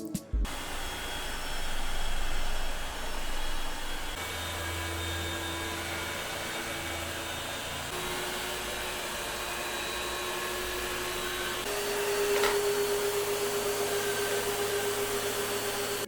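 A eufy X8 Pro robot vacuum runs with a steady whirring whine that steps up in pitch and intensity as it switches through several suction levels, loud and alone.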